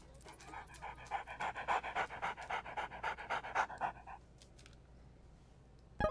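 Rhythmic, breathy dog panting from the Good Dog, Bad Dog VR game, a steady run of quick close huffs for about four seconds before fading into quiet.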